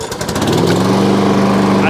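A Hayter lawn mower engine starts up with a quick pull and settles into a loud, close, steady running hum.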